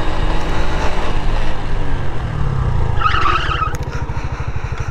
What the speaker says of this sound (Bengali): পেছনের চাকা তো ভালো লেভেলের স্কিড করলো।